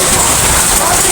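Heavy rain mixed with hail pouring down outdoors, a dense, loud, unbroken hiss and patter filling the whole moment with no letup.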